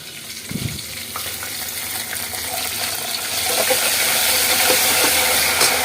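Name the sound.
tempering with curry leaves and coriander sizzling in oil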